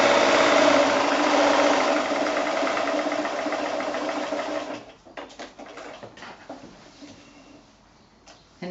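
A sewing machine runs along a drawn line on a fat-quarter pocket bag, a loud, close, steady whir for about five seconds before stopping, followed by quiet handling sounds.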